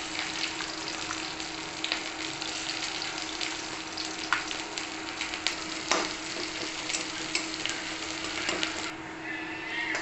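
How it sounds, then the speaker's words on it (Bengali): Chopped onion frying in oil in a pan, a steady moderate sizzle with occasional scraping stirs and clicks, no talk. "দিয়ে দিচ্ছি পেঁয়াজ কুচি"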